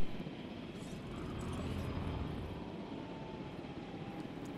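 A helicopter in the Jurassic World Evolution video game drives dinosaurs away, heard as a faint, steady rotor-and-engine drone with a soft broadband rumble and no speech.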